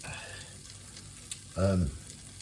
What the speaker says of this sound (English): I'm going to crush this garlic into this pan and just lightly fry that garlic